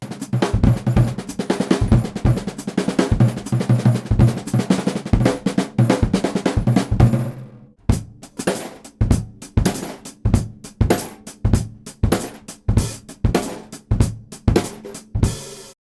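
A bunch of keys thrown repeatedly onto a snare drum and floor tom, first in a dense clattering run, then as separate metallic crashes in a steady rhythm, close and loud with no talking.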